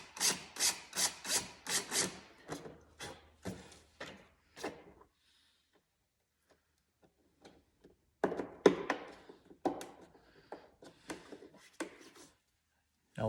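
Rhythmic scraping and grinding bursts come from drilling rivet holes for carbon fiber intake vents on a 2021 Ski-doo 850 Turbo snowmobile, two close runs of short strokes separated by a quiet pause.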